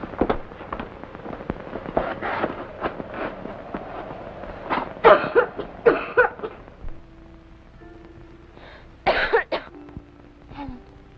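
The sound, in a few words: cough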